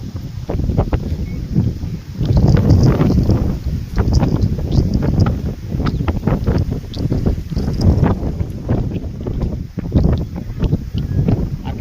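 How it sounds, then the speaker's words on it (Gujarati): Strong storm wind sweeps across a wheat field, a loud, continuous roar of buffeting gusts that rise and fall with no voices. "જોઈ શકો છો પવન કેવો જોરદાર છે અત્યારે"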